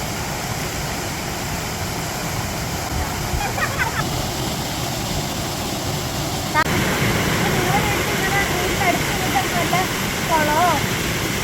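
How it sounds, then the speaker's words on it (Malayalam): A small waterfall rushes steadily nearby, a constant broadband splash with faint bird chirps rising over it in the second half. "ഇത് ഇവിടുത്തെ പൂവത്തുള്ള ഒരു ചെറിയ വെള്ളച്ചാട്ടമാണ്."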